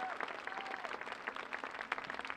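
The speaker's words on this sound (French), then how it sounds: "Des applaudissements pour notre Géorgienne qui a mis le feu." Audience applause for a Georgian performer at a live show, a dense steady wash of clapping with a few brief voices and a faint tone mixed in.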